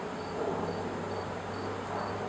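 Honey bees hum in a steady, continuous drone around an open Nat Hive, a close, even buzz with no breaks and no voices.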